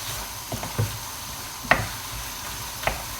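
Lasagne mince sizzling quietly in a pan, with a steady low crackle and a few sharp scraping clicks as a spoon gives it a quick stir.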